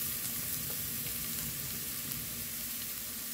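Garlic fries in hot oil in a pan for a Korean stir-fried dried anchovy side dish, a dense, continuous crackling sizzle at even volume with no talking.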